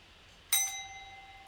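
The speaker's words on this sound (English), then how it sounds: "The bell is rung. It sounds a little bit like this." A single bright bell strike, clear and close, ringing out and fading slowly after a moment of quiet.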